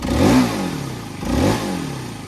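A new, stock Aprilia RS4 125 motorcycle engine revs twice in quick succession, each low-rpm blip rising and falling back to a steady idle, close and fairly loud.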